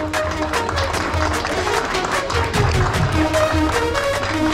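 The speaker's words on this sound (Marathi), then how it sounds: "जोरदार टाळ्या।" An audience applauds at a cricket team's felicitation ceremony, a loud, continuous wash of many hands clapping close by, with a few voices mixed in throughout.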